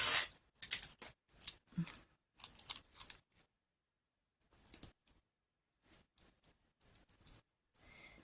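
Adhesive tape is pulled and cut in quick crackling tears and snips in short bursts, then fading into sparse faint clicks with quiet gaps between them.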